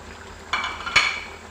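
Whole spices and korma masala for chicken korma fry in a pan, a soft sizzle with two brief scraping stirs of a spoon against the metal.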